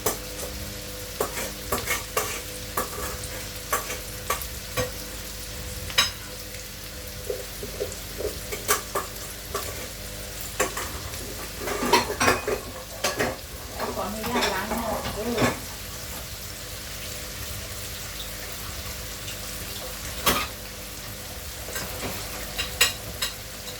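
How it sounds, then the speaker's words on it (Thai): Rice being stir-fried with Chinese sausage in a pan, with a crackling sizzle and repeated sharp scrapes and knocks of a spatula in uneven bursts, heard close; a voice is briefly audible. "ผัดแต่ว่าให้มันเข้ากันนะคะ"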